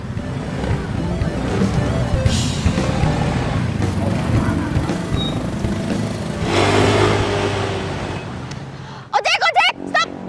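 A motorcycle taxi (ojek) engine runs steadily and close, swelling as it revs, then cuts off sharply near the end as a voice speaks briefly.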